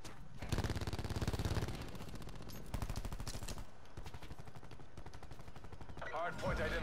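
Rapid automatic gunfire in a first-person video game shooter, rattling in fast, steady bursts close up, with brief pauses between volleys and a short louder spray near the end.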